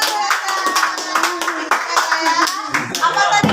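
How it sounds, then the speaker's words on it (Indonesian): Children in a school classroom clap their hands together, a quick run of sharp, rhythmic claps close by, with young voices and chatter mixed in throughout. "tepuk tangan buat"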